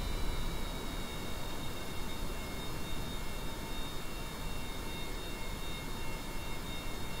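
A plane in a co-op space program game comes in to land, heard as a steady broad engine and wind roar that holds constant throughout, with no talk.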